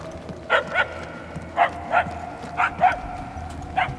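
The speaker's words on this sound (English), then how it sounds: "The barking is getting fainter." A dog barks in the Marvel's Guardians of the Galaxy video game, sounding in the Knowhere level as a series of about seven moderately distant yips and barks in loose pairs over a low ambient background.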